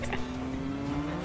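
A car races and squeals its tires in the Final Fantasy 7 Remake video game, a continuous engine drone with a rising tone and scattered bursts of squealing, moderately loud and with no voices.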